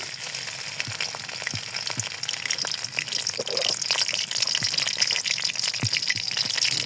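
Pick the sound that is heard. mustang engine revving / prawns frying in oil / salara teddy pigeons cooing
prawns frying in oil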